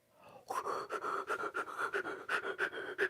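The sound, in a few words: rhythmic breathing in and out through the mouth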